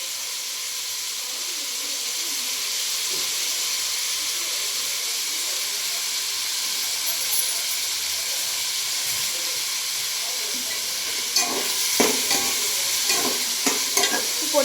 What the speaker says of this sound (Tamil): போட்டு நல்லா நாங்கள் கிண்டிக்கிறோம்.